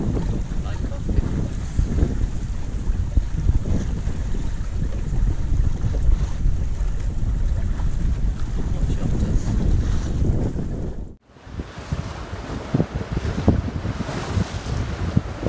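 A sailboat under way in strong wind on Scottish waters, near the McCormack Islands, with steady broadband wind rush and water noise across the whole stretch, briefly dropping out before resuming just as loud.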